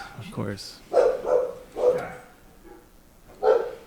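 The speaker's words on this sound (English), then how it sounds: "The dog barking challenge here." Dogs bark in a few sharp, separate yaps spaced about a second apart, close by, mixed with voices talking in the room.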